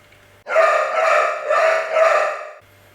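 A dog barks in a run of four loud, sustained, harmonic barks close by, then stops; no one speaks.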